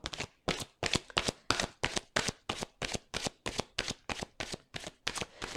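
Oracle cards are shuffled for a tarot-style reading in a steady run of about fifteen crisp, evenly spaced riffling slaps, close and alone, with no speech.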